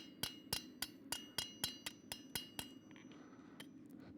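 Hammer peening metal at a blacksmithing demonstration, shaping the ears of a forged piece: about ten sharp, evenly spaced ringing blows, close and clear, then a few lighter taps over a low steady hum.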